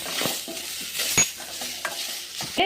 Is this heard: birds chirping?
no